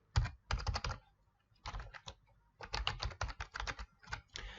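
Close computer keyboard typing as an email address is entered, coming in quick bursts of rapid clicking keystrokes separated by short pauses, with no voices.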